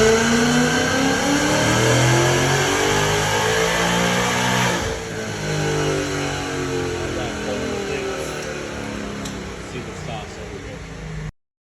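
A 5.0 Ford Mustang tuned to around 1,000 horsepower revs hard on a chassis dyno, its loud engine note climbing and pulling continuously for about eleven seconds before cutting off abruptly.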